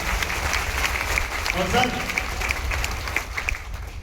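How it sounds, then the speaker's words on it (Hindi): An audience breaks into sustained applause, a thick, even clatter of many hands clapping throughout, while a voice speaks briefly over it. "ताली मर्दों वाली बजा लीजिए"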